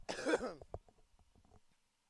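A commentator at a live townball game gives a sharp, close cough followed by a few softer throat-clearing rasps that fade out within two seconds.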